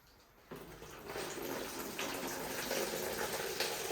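Water drains out of a holeless orchid pot holding a large cymbidium, a steady gushing pour that starts abruptly and runs on continuously, fairly close.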